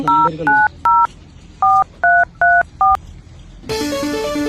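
A telephone keypad is dialled to place a call, sounding seven or eight distinct short dual-tone beeps in an uneven rhythm, loud and close, followed by the start of a ringing tone.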